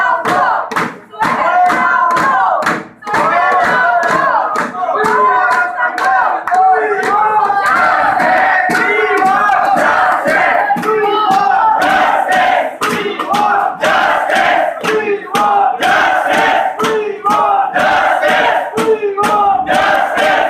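Protesters at Karachi Medical and Dental College chant slogans in loud, rhythmic unison, repeated call-and-response phrases with sharp accented beats and hand claps, a large crowd close by for about twenty seconds.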